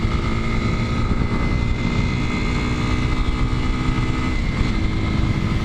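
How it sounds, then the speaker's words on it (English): A 230cc, 16 horsepower dual sport motorcycle rides along with a loud, constant engine drone and wind rush, close and steady for several seconds with no talk. "We're talking 16 horsepower, and we're talking 230cc motor."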